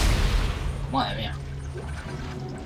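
A gunshot booms at the start inside the PC video game Dead Space, followed by a dark, rumbling game ambience with a voice briefly heard over it.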